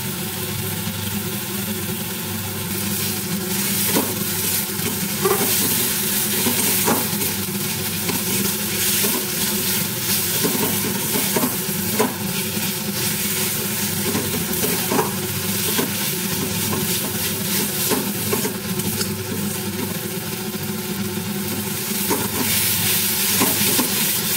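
Onions fry loudly with two spoonfuls of ginger garlic paste, a dense continuous sizzle with frequent scraping stirs throughout and no voices.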